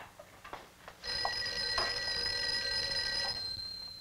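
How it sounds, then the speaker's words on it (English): An old-fashioned telephone bell rings steadily in an office, a bright sustained ring lasting about two and a half seconds after a few faint knocks, fairly close and with no talking over it. "I think your phone is ringing."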